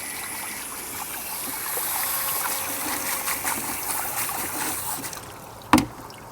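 Water rinses harvest equipment, a steady close hiss of running and splashing water that fades near the end before a single sharp knock.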